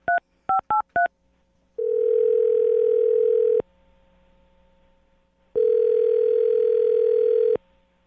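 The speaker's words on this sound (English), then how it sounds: "I'm going to dial her phone number right now." Four quick touch-tone dial beeps, followed by two long ringback tones separated by a pause, clear and close with no voices.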